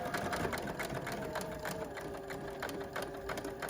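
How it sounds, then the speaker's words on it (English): A sewing machine runs a seam along the edge of a fabric surgical mask. The stitching is steady and continuous, with a fast, even mechanical rhythm throughout and no pauses. "And then we're literally just running a seam across the"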